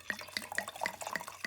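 An alcoholic drink is poured, making quick gurgling glugs of liquid in a short, rhythmic series, close and fairly quiet with no voices.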